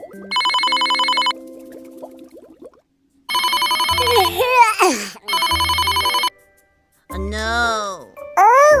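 A telephone rings in repeated bright electronic bursts, loud and close, with squeaky cartoonish voices and chirps filling the gaps between the rings.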